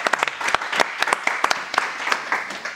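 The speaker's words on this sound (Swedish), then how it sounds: "Vi ger dem två också en applåd." Audience applause at a panel discussion on working conditions in the food sector, a brief round of close, distinct claps from a modest crowd with no voices over it.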